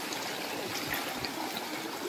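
Cold stream water rushes and trickles continuously outdoors, a dense, even wash of flowing water close by with no other sounds breaking through.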